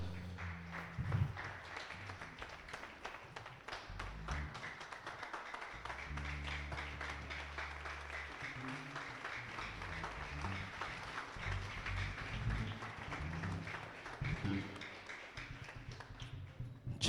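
A church congregation applauds continuously at a low, distant level, steady clapping sustained throughout with faint voices and music underneath.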